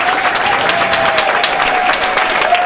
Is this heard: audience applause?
yes